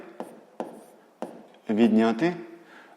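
Pen on paper while jotting down a sixth-grade math calculation, with three short scratchy strokes followed by a burst of writing, close and quiet; a voice speaks over part of it.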